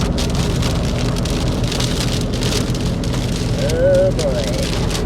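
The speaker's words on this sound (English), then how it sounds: "And now it's raining on us." A dense, steady downpour beats on a moving car on a Louisiana road as a big truck comes up alongside. The close drumming on the roof continues throughout over a low road rumble, and a voice speaks briefly near the end.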